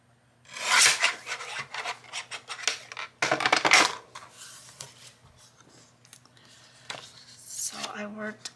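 Book page paper is trimmed at close range with a series of irregular scratchy, rasping cutting strokes, some louder bursts separated by short quiet gaps.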